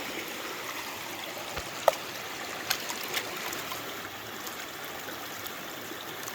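A creek in full flood rushes steadily nearby, a dense even roar of water with a few faint clicks and knocks, no voices present.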